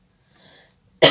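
A single sharp cough from one person, close and loud, following a brief faint throat sound in an otherwise quiet room.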